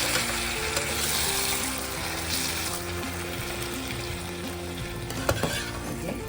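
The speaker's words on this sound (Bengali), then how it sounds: "এবার আমি গরম জলটা মিশিয়ে দেব" Hot water goes into rice and pointed gourd masala frying in a pan, giving a steady hiss and bubbling with a low hum underneath and a couple of sharp clinks near the end.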